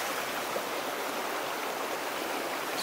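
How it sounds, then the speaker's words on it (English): A creek runs near a log bridge under construction, giving a steady, full rushing of flowing water that continues evenly throughout with no voices. "Creek is running great."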